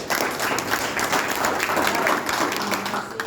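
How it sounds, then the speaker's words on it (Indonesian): Audience applause after a talk at a church-run theology school gathering, a dense steady wash of many hands clapping close by for the full few seconds. "Tepuk tangan dulu."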